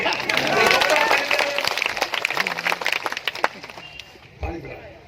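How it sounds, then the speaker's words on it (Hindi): Audience at a birthday event in Ashapur, where a forest minister is addressing the crowd, claps slowly and unevenly, with scattered individual claps under a murmuring crowd and nearby voices before it thins out. "इतने धीरे धीरे ताली बजा रहे हैं"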